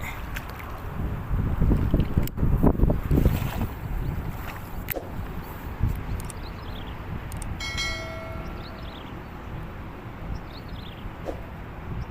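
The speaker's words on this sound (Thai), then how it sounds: "ลมแรงงี้ปลามันจะกัดยากหน่อยนะครับ" Strong wind gusts across the microphone beside a roadside swamp, heavy low buffeting in the first few seconds that eases into a steadier rush, with brief faint tones and clicks later on.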